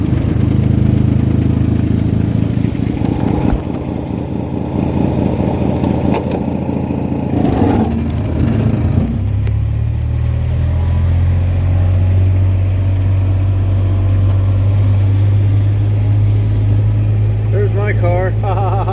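A small utility truckster's engine idles and then pulls away, a steady low motor drone that holds throughout the drive, loud and close, with no talk over it.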